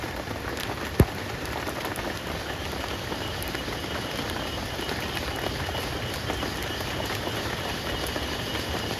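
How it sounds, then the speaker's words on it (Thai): Steady rain patters on leaves and ground all around, with one sharp knock early on; no voices, just the constant wash of falling water. "ฝนตกอีกแล้วทุกคน"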